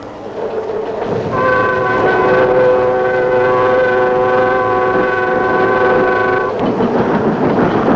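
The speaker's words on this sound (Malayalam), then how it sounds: "ട്രെയിൻ വന്നു." A train pulls in at a busy Indian railway platform, its long sustained horn blaring loud and steady for several seconds over the rumble of the arriving cars and station bustle.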